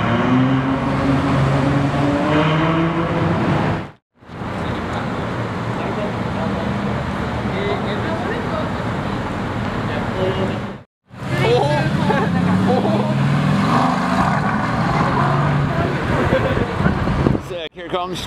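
A Mercedes SLR supercar rolls in at a busy car meet, a loud rumbling engine amid crowd chatter and traffic noise, with people talking over it and two brief dropouts in the sound.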